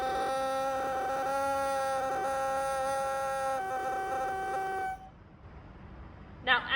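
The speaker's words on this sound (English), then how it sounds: "we're going to try to crow, which is the buzzy, weird sound that the double reed makes just by itself" A double reed crowing on its own, set on the lip with an embouchure: a sustained buzzy, harmonically rich tone that wavers in pitch for about five seconds, then cuts off, followed by quiet and a brief second buzz.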